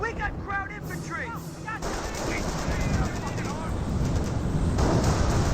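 Suppressive machine gun fire in a Company of Heroes match, a dense sustained crackle of gunfire with booming battle noise, running under a voice throughout.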